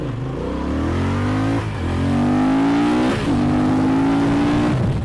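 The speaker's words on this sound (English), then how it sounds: "the next point for the Transalp is about its great sounding engine, especially at idle and low RPM" Exhaust of a Honda Transalp XL750 inline twin, a steady, loud engine note that rises in revs in a few stepped pulls with brief dips between them, heard alone without talk.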